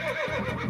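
A horse neighs in a short sound effect, a single high whinny that wavers and drops in pitch over less than a second, fairly loud and close.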